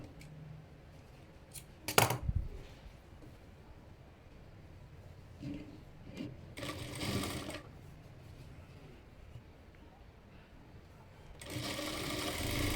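A sewing machine stitches a folded fabric edge for a child's outfit, in a few short bursts separated by quiet pauses, fairly close and moderately loud.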